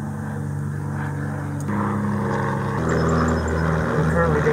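Propeller planes flying overhead during EAA AirVenture Oshkosh, heard from a kayak on the water as a steady droning engine hum that swells gradually, with a voice talking over it.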